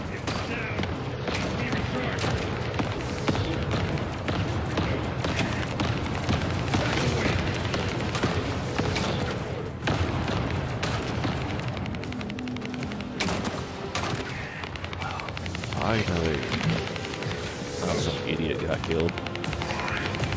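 Sustained gunfire and explosions from The First Descendant shooter game, dense bursts and booms running continuously throughout, loud and busy, with someone talking over the action at times.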